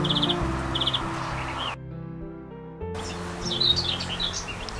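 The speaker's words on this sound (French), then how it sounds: "le verdier" European greenfinch song rings out in short repeated trilled phrases, then breaks off briefly before resuming with more varied chirps, over a steady outdoor background hum and no voices.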